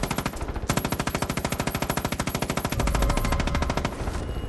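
Rapid, sustained automatic gunfire in the Far Cry 5 video game, a loud continuous burst of evenly spaced shots running almost the whole time, with a heavier low rumble joining near the end.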